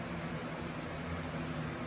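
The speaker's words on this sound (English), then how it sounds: "sorry about the fan noise" A fan runs in a hot garage during a Jeep Wrangler 4.7L stroker engine install, giving a steady, close, broadband whoosh with a faint low hum and no change in level.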